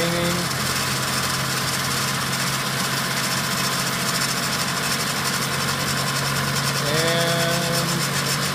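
A distributor test machine spins a distributor and cam position sensor up toward 2800 RPM, giving a loud, steady mechanical whine and drone with a tone that shifts slightly near the end, no voices.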